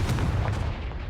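A Confringo blasting spell goes off in the Hogwarts Legacy video game: a short, dense boom with a heavy low rumble that fades over about a second, heard alone without talk.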